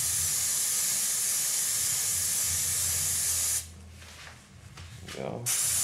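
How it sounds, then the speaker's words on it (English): Lysol disinfectant sprayed onto a rag for cleaning fishing rod grips, a loud continuous close hiss that cuts off abruptly, followed by faint rustling handling sounds. "Spray it on the rag."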